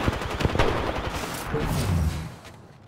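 Gunfire in the Apex Legends video game, rapid bursts of shots and sharp cracks that are loud and close, with some heavier booms under them and no speech.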